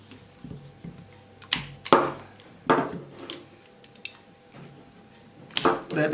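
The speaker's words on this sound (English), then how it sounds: "You can hear the ratchet work its way through and cutting off the stick" Ratchet pruner biting through a stick in a series of sharp crisp clicks and snaps, irregularly spaced and fairly close, with a short pause between cutting strokes.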